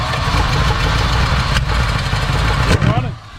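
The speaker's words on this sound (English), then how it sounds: "Crew Cab needs a new motor. The 383 big block that's in it is just worn out and tired." Worn-out 383 big block V8 in a 1969 Dodge Crew Cab pickup running steadily, a loud, close, rough engine drone that holds throughout with a brief dip near the end.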